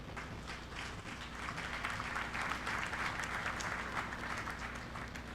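At an awards ceremony, an audience applauds steadily and evenly, the sound distant and faint throughout.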